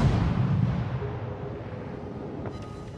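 Battleship guns fire on a Fubuki destroyer in a naval video game, heard as a deep, rumbling boom that rolls and slowly fades over a few seconds, with faint pings near the end.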